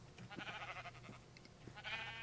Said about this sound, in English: As well as a whole bunch of sheep.